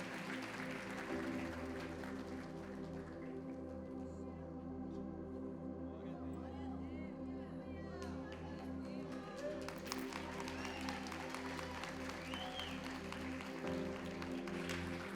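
A congregation at a women's church conference applauds, sustained clapping that swells and continues for several seconds with voices and music mixed in.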